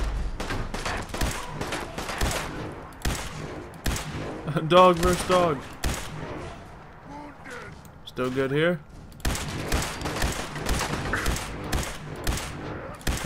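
Gunfire in Fallout 4, with repeated sharp shots and short rapid volleys scattered throughout, loud and close, while a person talks over the fighting.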